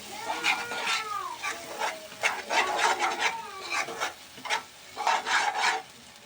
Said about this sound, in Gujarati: એ પેસ્ટને આપણે સડવા દઈશું, હલાવતા રહીશું